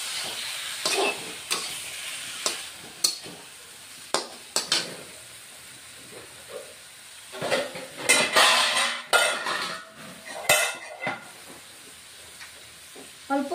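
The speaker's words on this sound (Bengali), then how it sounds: "এখন আরও মিনিট 2-1 মতো বন্ধুরা কষিয়ে নিব।" Rohu fish curry with cauliflower and potato sautéing in a pan over low heat, with irregular clanks and scrapes of a metal spoon against the pan over a soft background sizzle.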